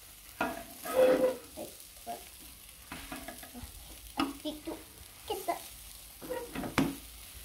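Food frying in a pan until crisp on one side, with soft sizzling, stirring and scraping sounds coming in short bursts at close range.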